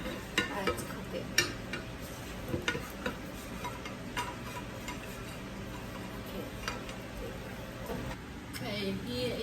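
Rice flour pancake batter fries in a pan with a quiet, steady sizzle, broken by scattered light clicks and scrapes of a utensil against the pan.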